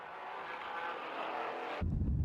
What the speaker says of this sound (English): Love the sound of that Cayman. Of course, flat 6 power.